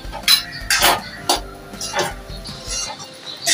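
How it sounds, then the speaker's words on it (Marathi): Sprouted moong beans are sautéed with spices in a pan, a string of close spatula scrapes and metallic clinks in an irregular rhythm with faint frying underneath. "आता आपण हे छान मसाल्यांमध्ये 2 ते 3 मिनिटं परतून घेऊया."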